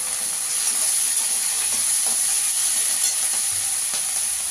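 Onions frying in a pan while being cooked down to a reddish brown, a steady even sizzle and hiss running throughout at moderate loudness with faint stirring clicks, no voices.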